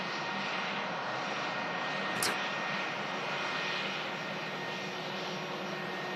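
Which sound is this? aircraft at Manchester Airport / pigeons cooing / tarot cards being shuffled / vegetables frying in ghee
aircraft at Manchester Airport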